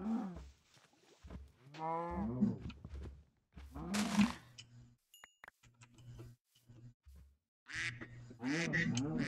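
Enchanted golden apple cow in the Minecraft Crazy Craft modpack giving several moo calls spread across the clip, interspersed with quacking and other game animal sounds and brief clicks.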